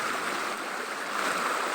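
Steady rushing cold, clear mountain stream water with a bright, hissy wash, continuous and fairly close, like a stream flowing over rocks, with no voices.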